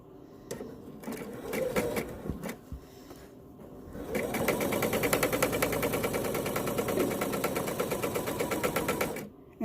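A sewing machine stitches double fold binding: a few short hesitant bursts come first, then a steady fast, even chatter of stitching runs unbroken for several seconds before stopping.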